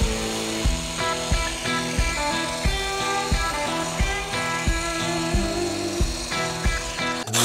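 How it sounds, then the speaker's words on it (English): Makita reciprocating saw with no blade fitted, used as a vibrator on wet concrete being poured for a fence curb, giving a loud, close, continuous buzzing drone broken by a regular series of short thumping pulses. "Now I'm just going to take my Makita Sawzall with no blade in it,"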